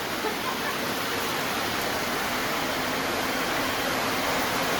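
Steady, dense hiss of the season's first rain falling, unbroken and even throughout, with no voices.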